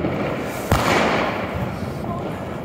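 New Year's Eve fireworks and firecrackers in Berlin: a sharp loud bang near the start, then a dense crackling wash of distant and nearby bursts continuing throughout, with faint crowd noise under it.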